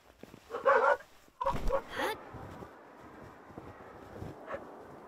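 A dog pal in the Palworld video game barks in two short bursts early on, then fades to soft wind-like background noise.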